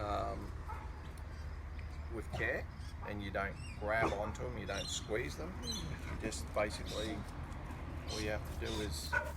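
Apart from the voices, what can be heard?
dog barking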